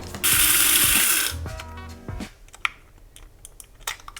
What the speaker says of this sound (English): So let's grind this up.